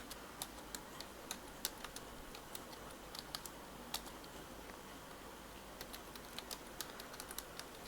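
Typing on a computer keyboard during a Python coding lesson: a faint, steady run of light key clicks with small irregular gaps, close by and alone against quiet room noise.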